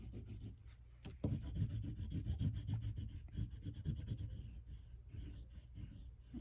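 Bright green oil pastel rubbing back and forth on paper while coloring in, a close, soft, continuous scratchy rasp with one sharper tap partway through.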